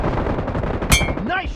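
Gunfire in the mobile battle royale BGMI (PUBG Mobile): a sharp close shot cracks out in the middle amid a busy game mix, with a brief ringing tone and a voice-like sweep afterward.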